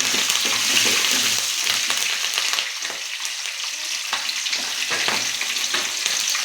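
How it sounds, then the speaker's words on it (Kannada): Green chillies fry in hot oil in a pan for upma, a loud, close, crackling sizzle with bursts of spattering throughout. "ಹಸಿಮೆಣಸಿನ್ಕಾಯಿ ಇವೆರಡು ಫ್ರೈ ಮಾಡ್ಕೊಳ್ಳೋಣ"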